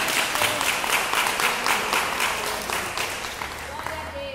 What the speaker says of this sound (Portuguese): Uma salva de palmas para Jesus em nome de Jesus.